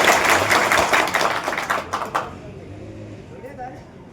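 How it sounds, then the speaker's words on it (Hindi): Audience applause at a community gathering of Bhil tribal village leaders in Thandla: a dense burst of clapping from a crowd that fades out after about two seconds, leaving quiet room noise. "जोरदार तालियों से हमारे एसडीएम महोदय का स्वागत है।"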